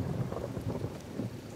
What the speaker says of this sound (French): On ferait mieux d'attendre que la pluie s'arrête.